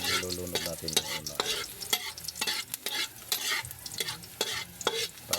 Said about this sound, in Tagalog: Ahos po ang nilulunod natin una.